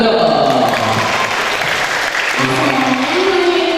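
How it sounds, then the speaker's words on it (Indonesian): Audience applause at a university rector's visit to an elementary school, a steady loud wash of clapping from a hall full of people, with voices and tonal sounds rising over it toward the end. "Ya, tepuk tangan dong."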